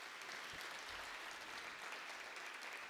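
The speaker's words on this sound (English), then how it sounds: "So please give her a round of applause." Applause from an audience at a healthcare panel event, a steady dense patter of many hands clapping, fairly faint and distant, holding evenly throughout.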